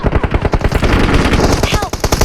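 Loud automatic gunfire from the mobile shooter PUBG Mobile rattles in rapid, continuous bursts close up, with a voice faintly underneath.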